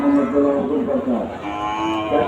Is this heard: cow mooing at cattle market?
yes